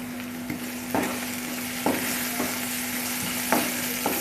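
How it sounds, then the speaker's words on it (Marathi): Turmeric, garam masala and red chili powder fry in a pan with a steady soft sizzle, broken by several short scraping stirs of a spoon at irregular intervals; quiet and close, with no talking. "सगळं फ्राय करून घ्यायचं आहे."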